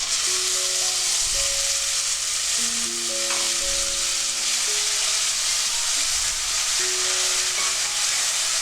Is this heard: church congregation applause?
no